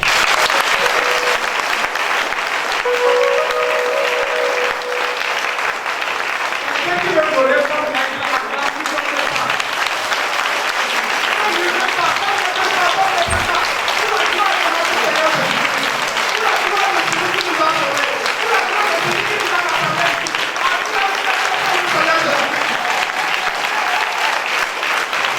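Sustained applause from a church audience, steady and loud throughout, with scattered voices and cheering mixed into the clapping.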